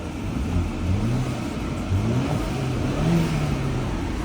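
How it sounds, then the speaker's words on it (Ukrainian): A used car bought for five rubles starts up and idles, a steady mid-pitched engine hum with slight revving swells, close and continuous with no talk. "Тачка заводиться."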